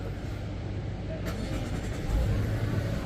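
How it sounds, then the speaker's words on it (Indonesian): A 2023 Mazda CX-60 3.3 e-SkyActiv-G AWD engine brought to life with the start/stop button: a brief starter burst, then the engine catches and settles into a steady, moderate running rumble. "tekan start stop button yang ada di sebelah kiri sini untuk menyalakan mesinnya"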